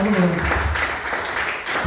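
A church congregation claps during a sermon, a dense burst of applause heard alongside a lingering voice or music at the start, fairly loud and continuous.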